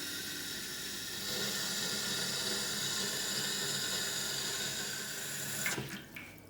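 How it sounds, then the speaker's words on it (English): Water pours steadily from a tap into a roasting tray, a continuous close hiss and splash that runs for several seconds before stopping abruptly with a few final drips and knocks. "I'm putting some water into my tray."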